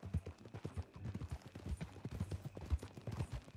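Horse hooves clip-clop in a steady walking rhythm in Red Dead Redemption 2, close and moderately loud throughout, with a brief hint of a whinny.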